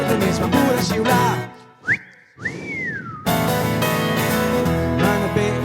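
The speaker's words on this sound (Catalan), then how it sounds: "només va poder xiular" A person whistles two short rising and sliding notes in a pause between loud live band music at a cabaret-style concert, clear and fairly close, with the music dropping away around the whistle and then returning.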